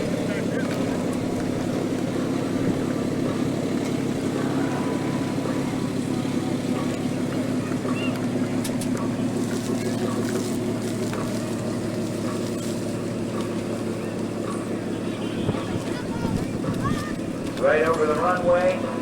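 An aerobatic airplane performing at the Blue Ash Airport Days air show, a sustained distant propeller-engine drone rising and falling across the whole stretch, with an announcer talking over it.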